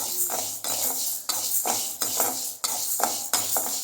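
Horse gram being stirred and dry-roasted in a pan, with a ladle scraping the metal in steady repeated strokes about every half second, close and clear, no talk.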